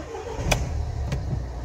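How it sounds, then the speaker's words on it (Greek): A Toyota Avensis engine is cranked over and catches after its immobiliser has been reactivated. Two short bursts of starter noise stand out over a steady low rumble, and no voices are heard. "Μιζάρουμε και το αυτοκίνητο παίρνει μπρος κανονικά"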